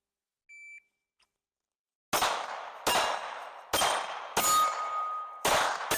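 Handgun shots fired at an outdoor range during a run-and-gun drill, five sharp loud reports spaced about a second apart after a couple of faint beeps from a shot timer at the start.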